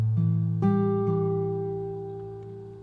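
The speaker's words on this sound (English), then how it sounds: "you want to play the first part of the intro, which sounds like this." A fingerstyle acoustic guitar plays the opening of a song as a few plucked notes over a ringing chord shape, each note sustaining and slowly decaying, close and clear with no speech.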